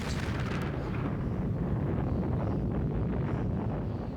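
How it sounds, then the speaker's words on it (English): A comedic sound effect of an exploding golf ball: a loud broadband blast at the start that settles into a sustained, rumbling roar lasting several seconds, with no talking. "Or unless the ball explodes."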